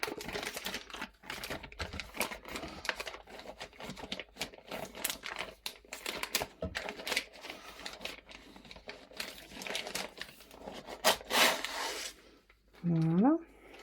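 Close crinkling and tearing of a cross-stitch kit's plastic packaging, a busy run of rustles and rips that continues for about twelve seconds, then a short burst of speech at the end.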